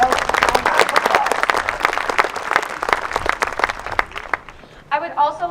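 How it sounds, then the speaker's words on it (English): A room of families and community members applauds a pianist after a school choir concert; dense clapping carries for most of the stretch, fades near the end, and a voice begins speaking as it dies away. "So let's give her a round of applause."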